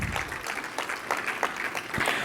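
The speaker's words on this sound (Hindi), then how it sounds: "जोरदार तालियों के साथ सर का स्वागत किया जाए।" An audience at an International Women's Day event claps in welcome for a guest, a dense patter of hand claps with uneven bursts, fairly close.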